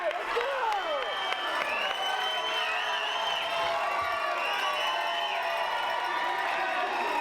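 A crowd at a professional pickleball match cheers and claps steadily, a dense, sustained roar of applause and whoops filling the arena throughout, with no break.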